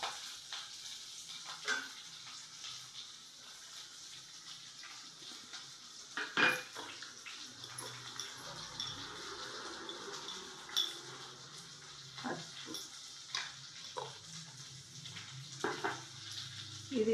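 Chopped onion frying with curry leaves in a pan for a bottle gourd milk curry, a soft steady sizzle with scattered scrapes and clinks of stirring, no voices.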